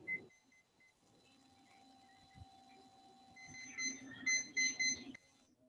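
A kitchen timer set while roasting goes off with a series of quick, high electronic beeps near the end, after a stretch of quiet room sound.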